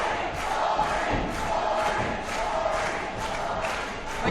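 A wrestling event crowd roars and cheers steadily, a dense wall of voices swelling in waves with scattered shouts throughout.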